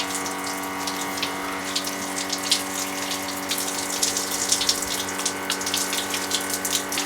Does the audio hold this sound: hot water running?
yes